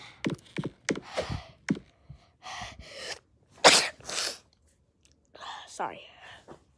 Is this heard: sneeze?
yes